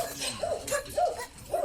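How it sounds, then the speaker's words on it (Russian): Dogs out on a walk give a string of short yips and whimpering barks, close by and evenly spaced, with a voice murmuring faintly underneath. "Да, вон собаки гуляют пока у нас."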